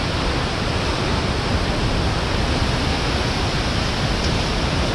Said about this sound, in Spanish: La cascada que se mira allá de lejos.